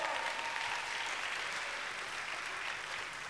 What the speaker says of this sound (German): Applaus für Chris und Henny